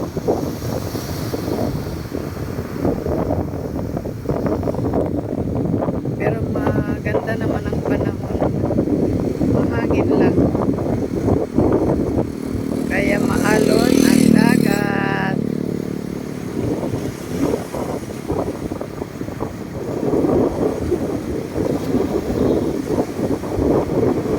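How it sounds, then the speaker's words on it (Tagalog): Strong wind roars across the microphone at the seashore with a rumble of rough surf, while a person talks over it; an engine buzzes briefly in the middle. "medyo maalon kasi malakas ang hangin."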